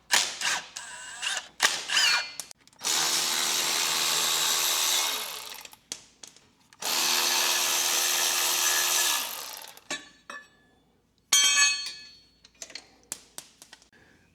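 A power tool runs in two sustained bursts of about three seconds each while a guard is removed from a tractor during a hydraulic steering cylinder leak repair, with clanks and rattles of metal parts between and after the bursts.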